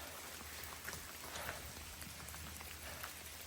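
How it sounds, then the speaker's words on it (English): Moderate rain comes down on the Appalachian Trail in a sheltered, tunnel-like stretch, giving a faint, steady hiss of drops with scattered louder taps and no voices. "I don't know if you guys can hear the rain coming down"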